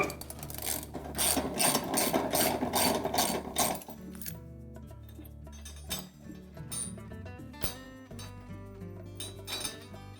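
A ratchet socket wrench works a 19mm nut loose on a Whirlpool washer's tub support assembly, rattling in rapid, close, loud clicking strokes that shift into slower individual ratchet clicks.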